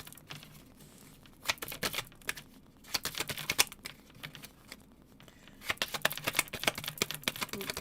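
Tarot cards are shuffled by hand in rapid bursts of crisp riffling and flicking, close and clear, separated by short pauses with no talking.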